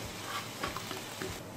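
Chicken frying with spices in a pan for shami kabab, a faint, even sizzle with a couple of soft stirring scrapes, brief and without voices.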